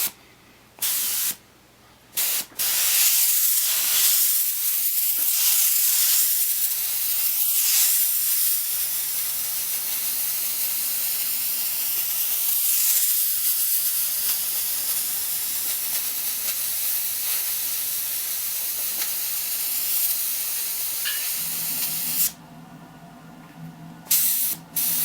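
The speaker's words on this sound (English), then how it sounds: "And we'll spray some lines and we'll spray some dots" A Badger Krome airbrush sprays black paint reduced with thinner, giving a steady close hiss broken by short pauses as lines and dots are laid down.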